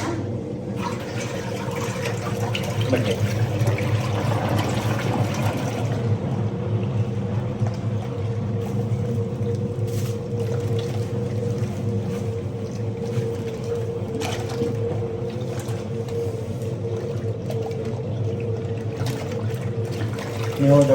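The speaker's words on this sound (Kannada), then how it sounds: "ಈ ಪೈಪ್ ಎತ್ತಿ ಬಿಟ್ಬಿಟ್ರೆ ಸಾಕು ನೀರು ಆಚೆ ಹೋಗುತ್ತೆ" Water drains steadily out of a washing machine's drain pipe, a continuous rushing trickle that holds at an even level throughout.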